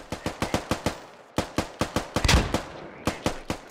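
Rapid automatic rifle fire in the military shooter Squad, close and loud with evenly spaced shots in several bursts, one heavier impact thump midway and no talking.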